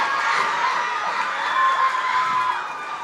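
A baseball crowd at a Utica Blue Sox versus Mohawk Valley Diamond Dawgs game cheers a double, a steady, fairly loud roar with shouts and whoops that holds throughout.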